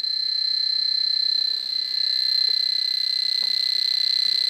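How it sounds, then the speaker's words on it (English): An Ecotest Terra P Plus Geiger counter held near radium gives a loud, steady high-pitched electronic tone that barely wavers, with faint extra clicks over it. "every time it counts a decay, it will beep"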